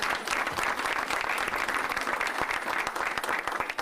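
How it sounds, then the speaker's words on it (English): Dense, steady round of applause from parents in an audience at a New York City schools announcement with the mayor, loud and continuous throughout with no break. "Give each other a round of applause"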